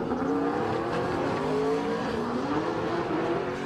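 BMW drift car at the Croix-en-Ternois circuit, engine droning steadily with rising pitch as it sets off on its run, tires faintly squealing, heard from a distance throughout.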